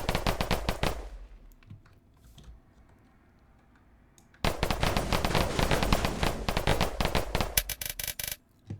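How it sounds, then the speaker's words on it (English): Rapid bursts of Tommy gun fire in a Minecraft-style video game, a quick rattling string of shots, a pause, then a longer sustained burst, close and loud. "And you also have a Tommy gun, which I believe is not craftable."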